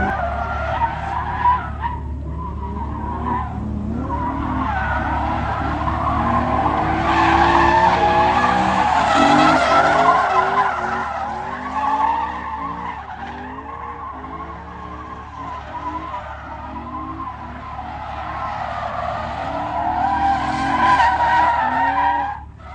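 A car driven hard around a race track, tyres skidding and squealing through corners as the engine revs rise and fall, loud and close throughout with no talk.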